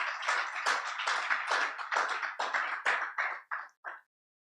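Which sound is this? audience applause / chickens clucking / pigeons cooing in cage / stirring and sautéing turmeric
audience applause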